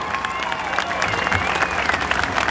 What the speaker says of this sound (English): how about a huge round of applause for all the cowgirls out here.